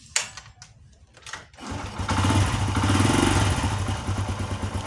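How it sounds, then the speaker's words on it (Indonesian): A carburetted motorcycle engine is started after a few brief clicks and cranking bursts, then settles into a loud, close, steady idle with a rapid mechanical chug. "saya coba hidupkan motornya"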